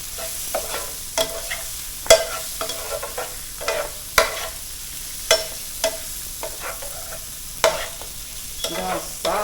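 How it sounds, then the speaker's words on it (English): Sausage browning in a pan with Cajun seasoning: a steady sizzle runs under repeated sharp spatula clicks and scrapes in an irregular rhythm, close by and with no talking. "Get our sausage nice and going, and we're going to brown it a little bit"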